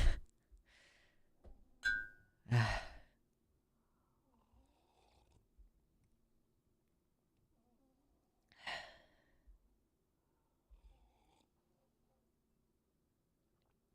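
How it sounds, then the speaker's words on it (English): Loud snoring snorts come in a few separated bursts, with quiet breathing pauses between them and no talking. "He's snoring so loud."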